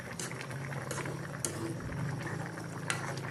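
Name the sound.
fish stew boiling in a pot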